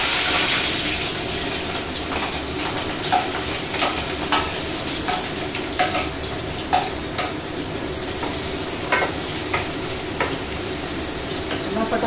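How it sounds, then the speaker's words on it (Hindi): Curry leaves, onion and green chilli sizzle in hot oil in a pan: a continuous loud crackle with repeated spoon clicks and scrapes, and a brief faint voice. "ये डालती हूँ थोड़ी सी नीम और ये प्याज और हरी मिर्च।"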